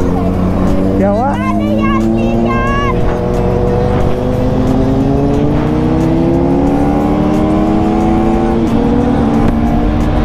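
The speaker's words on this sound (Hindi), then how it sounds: "टॉप एंड ड्रैग रेस है, टॉप एंड।" Drag race cars scream down the top end of the strip, several engines rising in pitch together, loud and sustained, with voices chattering over them.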